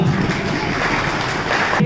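Guests at a school retirement ceremony applaud in a brief, steady burst of many hands, close and fairly loud, with no pauses.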